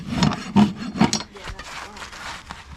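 A rasp files down a horse's hoof during a trim, with three strong rhythmic strokes up close followed by lighter, quicker scraping.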